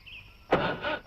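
A car engine cranks without catching, a harsh grinding burst that starts about halfway through and churns on to the end, with a short surge at the close.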